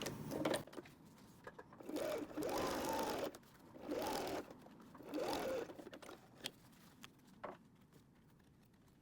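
Sewing machine stitching a small seam on a canvas pencil pouch, running in several short bursts of a few seconds each with pauses between, fairly faint and close, no talk over it.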